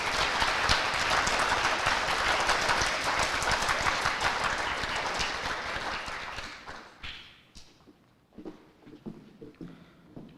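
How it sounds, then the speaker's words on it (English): An audience at an FFA banquet award ceremony claps in a dense, sustained burst for several seconds, then thins to a few scattered claps and quiet room noise. "Can everyone please give a big round of applause to our members achieving these great honors?"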